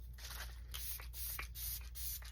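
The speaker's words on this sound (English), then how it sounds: "So now setting spray" Several short hissing bursts from a bottle of makeup setting spray, close by, in quick uneven succession over a low steady hum.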